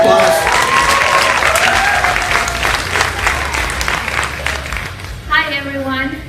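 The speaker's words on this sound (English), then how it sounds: "So give her a round of applause" Loud, sustained audience applause at a Chester Bennington tribute event in a theater, with cheering voices over the clapping that thins toward the end as a person begins talking.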